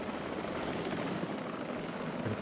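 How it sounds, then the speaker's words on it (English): Steady, dense rotor and engine roar of a helicopter in the Jurassic World Evolution 3 video game, heard continuously and fairly loud with no talk over it. "Stop attacking our helicopters."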